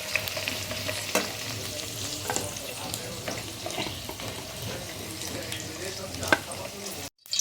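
Lightly fried okra is lifted from hot oil, a low steady sizzle with soft scraping and occasional clinks of a utensil against the pan.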